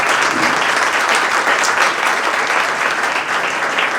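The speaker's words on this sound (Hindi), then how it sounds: "तो जोरदार ताली बजाइए अविनाश सर जी का।" Dense, steady applause from an audience at a felicitation ceremony honouring a selected patwari candidate, loud and sustained for the whole stretch with no voices over it.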